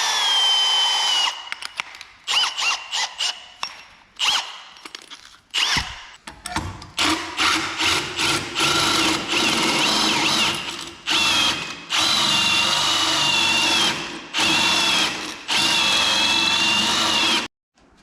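A power drill boring holes through a metal repair panel for a 1975 Series 3 Land Rover pick-up's rear chassis cross member, loud close whirring bursts of varying length with short pauses between, no talking.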